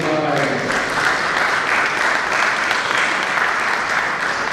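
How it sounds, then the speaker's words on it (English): Sustained applause from an audience at a law week gathering of a Nigerian Bar Association branch, a dense, steady patter of many hands that holds at even loudness throughout, with a brief voice at the very start. "A clap of praise on the line."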